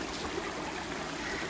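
A creek flows steadily along the Appalachian Trail near Center Point Knob, a constant broadband rush of water with no talking.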